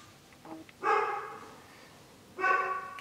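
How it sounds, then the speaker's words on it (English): A dog barks twice indoors, with two loud, full barks about a second and a half apart and a faint yip just before the first. "You want to bark now?"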